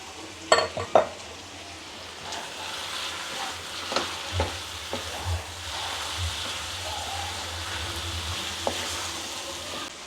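Marinated chicken goes into a pan of tomato masala with separated oil, giving a few sharp clatters at first, then a steady close sizzle with occasional stirring scrapes and no talk.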